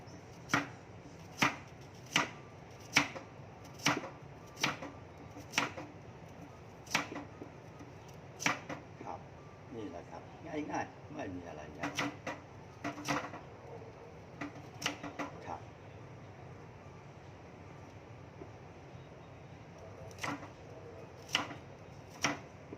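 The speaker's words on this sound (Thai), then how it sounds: "พอปอกเสร็จแล้ว เราก็หั่น" Peeled vegetables being sliced with a knife on a cutting board for a Thai sweet-and-sour grouper stir-fry, a long series of crisp, close chopping taps in irregular bursts.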